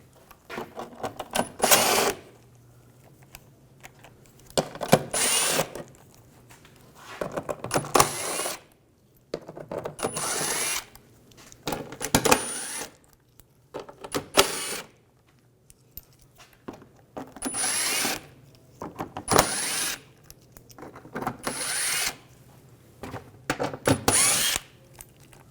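A power tool with an 8mm socket backing screws out of a body panel on a 2006-2010 BMW 550i, in short repeated whirring bursts separated by pauses, with occasional small metallic clinks.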